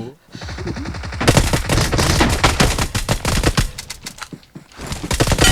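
Rapid bursts of video game gunfire from a powerful weapon, dense fast repeating shots nearly continuous for several seconds, loud, with a player's voice briefly heard at the start.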